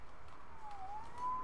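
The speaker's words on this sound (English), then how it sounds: "Saved by the siren." A police siren in the Spider-Man video game wails in a faint, rising and falling tone above steady background noise, with no talking.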